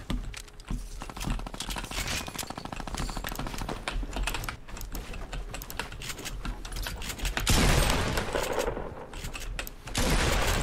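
Video-game gunfire in Fortnite Battle Royale, with rapid bursts of shots heard close over constant keyboard clicking.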